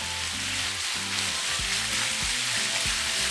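Steak pieces for bistec ranchero fry in a hot pan, a loud, constant hiss of sizzling with a low rhythmic clatter underneath.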